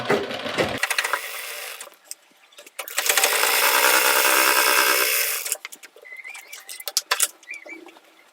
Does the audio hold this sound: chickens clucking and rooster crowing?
no